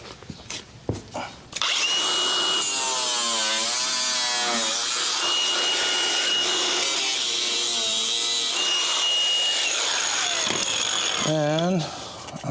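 A power tool, probably a die grinder or cutoff wheel, whines steadily as it cuts rusty sheet metal on a 1992 GMC 3500 truck. The loud, continuous cut runs for about ten seconds, with brief talk before it and a short burst of speech near the end.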